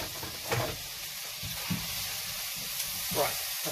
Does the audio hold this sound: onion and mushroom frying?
yes